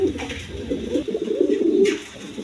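Domestic and foreign coloured pigeons coo close by in a low, throaty, continuous murmur, with a brief brighter rustle midway.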